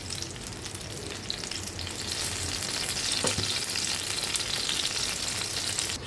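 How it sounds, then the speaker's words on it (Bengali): Brinjal slices rubbed with salt and turmeric frying in white oil, a steady close crackling sizzle throughout with occasional spatters, growing slightly louder midway. "এবার এগুলোকে সাদা তেলে ভেজে নেব।"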